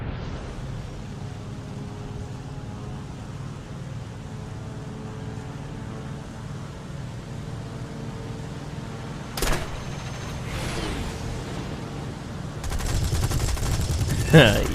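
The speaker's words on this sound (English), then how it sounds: "It's got really sweet guns on it that sound amazing when they fire." Fighter plane guns firing in the War Thunder video game: a sharp burst near 9.5 seconds, then a sustained loud rattle of rapid fire at the end, over a steady engine drone.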